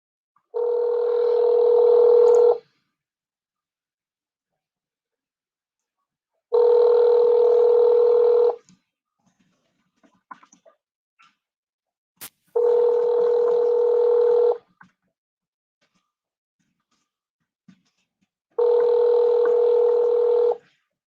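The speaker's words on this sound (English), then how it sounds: "Answer the phone." Telephone ringback tone from an outgoing call, four long steady rings spaced evenly apart with silence between them, loud and clear with a few faint clicks in the gaps.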